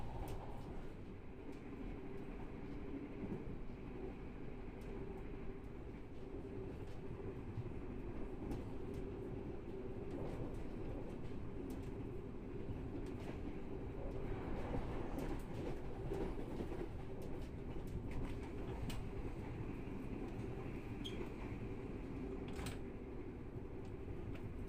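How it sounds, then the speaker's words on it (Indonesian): Blambangan Ekspres train crossing the Kali Cipanas bridge after Terisi station, a continuous low rumble of rolling wagons with faint clattering and rattles heard from inside, steady throughout. "Selepas Stasiun Terisi, KA Belambangan Ekspres menyeberangi Jembatan Kali Cipanas Terisi di atas Kali Cipanas."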